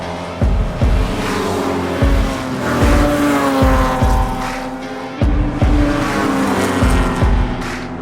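Race cars roar past at an auto race in Washington State, with loud engine sweeps and tire squeal rising and falling as several cars pass in close succession.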